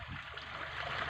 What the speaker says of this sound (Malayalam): അപ്പോൾ ഇതൊരു ചെറിയ നീർച്ചാലാണ്.